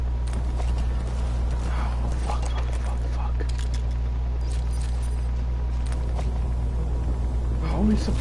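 Steady hoofbeats of a horse clip-clopping over a low constant rumble, with the background noise of a Metal Gear Solid V: The Phantom Pain game scene.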